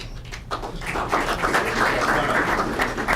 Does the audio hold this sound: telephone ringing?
no